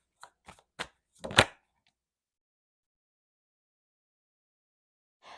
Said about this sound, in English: These cards are like, do not shuffle me.